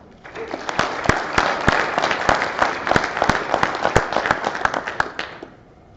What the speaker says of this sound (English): please give all of our promotees and decoration recipients another round of applause